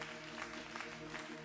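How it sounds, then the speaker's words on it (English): An audience at an evangelical youth conference claps in appreciation, a steady dense wash of hand clapping filling the short moment. "I want us to give a hand clap of appreciation to everyone that's here."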